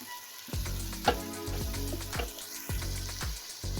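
Masala for an egg and beef kofta curry sizzles in a pan, a soft frying hiss punctuated by repeated clinking knocks of a spoon against the pan in an uneven rhythm.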